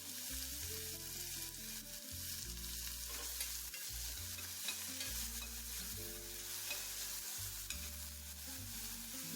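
Chopped onion fries in oil in a pan, a faint steady sizzle beneath loud tonal background music, with no talk.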